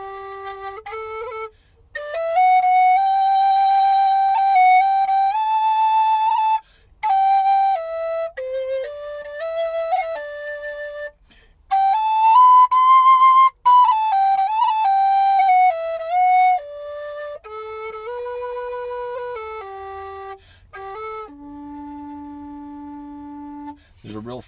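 A Dante collapsible low D whistle playing a mellow, pure-toned melody of sustained notes with short breaths between phrases, close and clear with no talking, ending on a long held low note.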